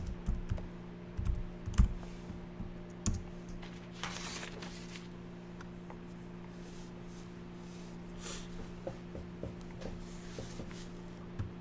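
Computer keyboard typed on in short irregular bursts of soft clicks, close but quiet over a steady low hum, with a few louder taps near the start.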